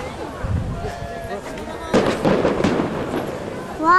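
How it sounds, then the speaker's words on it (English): Fireworks bursting over Plymouth, a string of crackling pops and booms that swell into louder, denser explosions partway through, with people talking excitedly nearby. "Watch, no, watch the fireworks, Jacob."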